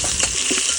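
Whole spices sizzling in hot oil in a pan at a village farm cookout, a brief bright hiss with soft stirring scrapes, close and steady.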